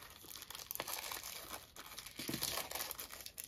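Plastic bags crinkle and rustle continuously at close range, with sharper crunchy bursts mixed in, no voices.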